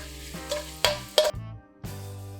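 Dried chilies and their seeds with Sichuan peppercorns frying in moderately hot oil, a steady close sizzle broken by a few crisp pops and a brief lull.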